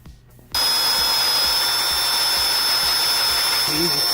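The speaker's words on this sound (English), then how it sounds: "we're gonna drill this hole all the way through" A power drill boring a hole all the way through a part during Subaru Forester repair work, a sudden loud, steady high whine that starts after a brief quiet moment and runs unbroken to the end.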